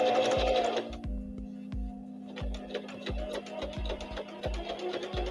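A sewing machine runs in quick rhythmic bursts of stitching, stopping and restarting, with a mechanical whir and regular clicks close by and no voices.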